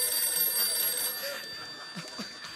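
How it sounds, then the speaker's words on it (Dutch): A doorbell rings indoors with a bright, shrill electronic tone that fades after about a second, leaving a quiet room with faint movement. "Oh nee, het is toch de deurbel."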